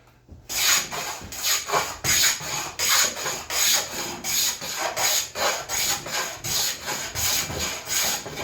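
Repeated rasping strokes of a hand plane or scraper smoothing an old wooden cutting board, about fifteen steady back-and-forth passes in an even rhythm, close and loud with no talk.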